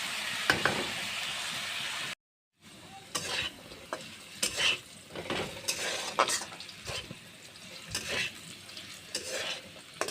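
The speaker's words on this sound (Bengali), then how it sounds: "একটা আলু ভেজে নেব" A potato fries in hot oil in a pan with a steady sizzle. A utensil clinks and scrapes as it is stirred, with a brief silent break near the start.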